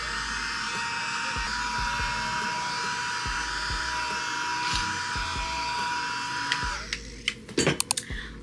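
A small handheld fan whirs steadily to dry freshly applied skincare before makeup, a constant buzzing hum close by that ends with a few clicks and knocks as it is switched off and set down.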